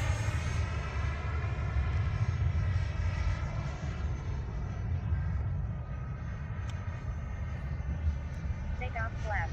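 An FMS 90mm Avanti electric ducted-fan jet model on an 8S setup flies past on its maiden flight, giving a loud, steady whine with a strong low roar and no talk over it.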